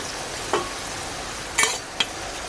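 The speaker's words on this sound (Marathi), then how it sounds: "बघा आवाज खानकन एकदम भजी बघा मस्त खुसखुशीत भजी झालेल्या आहेत" Small onion bhajis fry in oil on a wood-fired stove, giving a soft background sizzle broken by a few sharp stirring or scraping clatters, close by.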